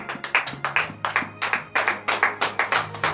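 A church congregation at a morning prayer service in Benin claps rhythmically in acclamation, steady regular beats at a lively pace, near and fairly loud, with no talking.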